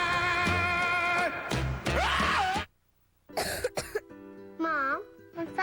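A person coughs and clears their throat in a Robitussin cough medicine commercial, a few rough bursts separated by short silences, close and distinct, with voiced groaning sounds in between.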